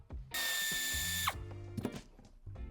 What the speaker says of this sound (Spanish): retiramos el tornillo que sujeta esta pieza en la parte central